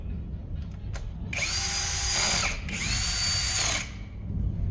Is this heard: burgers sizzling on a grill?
no